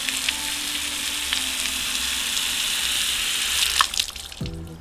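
Water from a hose fitted with an aerator sprays in a steady, close hiss across a vertical car panel, rushing continuously and breaking into brief splashing and dripping near the end.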